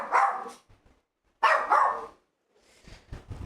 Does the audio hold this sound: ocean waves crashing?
no